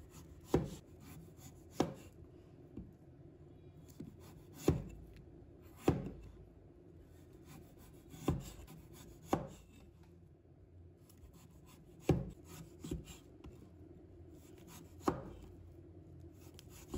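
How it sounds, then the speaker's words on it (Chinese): Sharp knife chops through the hard peel of a winter melon on a cutting board, a dozen or so crisp, separate thuds spaced irregularly a second or two apart, close and fairly quiet with no voices. "再把冬瓜皮切掉，不要，因为冬瓜的皮比较硬"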